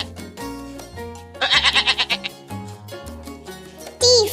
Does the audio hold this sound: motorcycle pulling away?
no